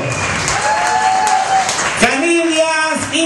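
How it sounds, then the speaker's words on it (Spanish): Audience applause at a Spanglish comedy show at the Village Inn: dense, steady clapping fills the whole stretch, with a voice rising over it near the end. "El aplauso para Village Inn."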